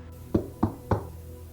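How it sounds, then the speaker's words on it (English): Three sharp knocks on a door, evenly spaced and close, each a crisp rap with silence between. "he heard 3 sharp knocks on his door"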